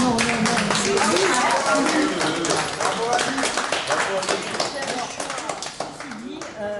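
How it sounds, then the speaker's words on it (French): An audience applauds at an association's anniversary gathering, a small group clapping in a quick irregular patter underneath overlapping chatter and voices. "On applaudit Annick."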